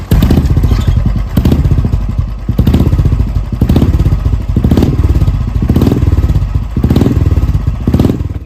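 A modified 2016 Royal Enfield Bullet Classic 350 BS3 idles close by with a loud, rhythmic thumping exhaust, each heavy beat repeating about once a second over a clattering mechanical engine note.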